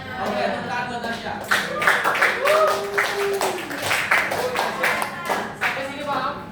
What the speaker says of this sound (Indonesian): tepuk tangan buat Nasya.